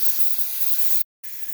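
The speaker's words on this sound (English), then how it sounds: "hold this right up there to the opening and spray it in there and flush out the evaporator" Solvent sprayed from a can to flush the AC evaporator of a Mercedes W123 300D, a loud steady hiss that cuts out briefly then resumes.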